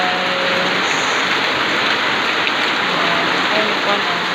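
A downpour in Cagayan de Oro drums steadily on nearby surfaces, making a thick, unbroken roar of falling water that stays constant and loud.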